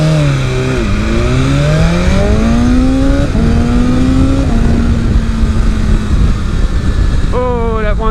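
A 2023 BMW S 1000 RR motorcycle engine accelerates hard on the street, loud and close, its pitch repeatedly climbing then dropping through several quick gear changes, with wind rush underneath.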